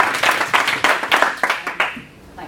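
Audience clapping at a talk, a short burst of distinct, fairly close handclaps in an uneven rhythm that thins out and stops after about two seconds.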